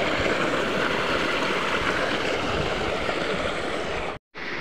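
Water gushes steadily from a tubewell outdoors, a loud, continuous broadband rush that holds without pause before cutting out abruptly near the end.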